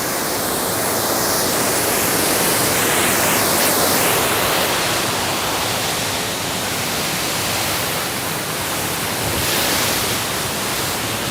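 Water rushes out through the relief valve at the Washington Crossing canal lock. A loud, close, unbroken roar of churning water holds steady the whole time, with no voices.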